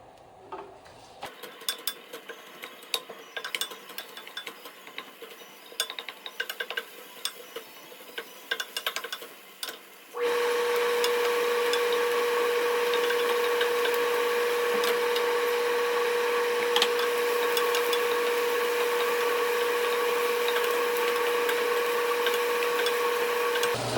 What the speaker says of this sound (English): I'm gonna fry up